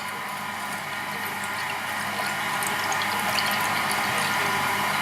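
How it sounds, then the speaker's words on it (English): Arundel Old Knucker, a dark 5.5% ale, poured steadily into a glass, a continuous close fizzing, trickling liquid sound with no talk over it. "it's pouring with a pretty sort of low looking carbonation"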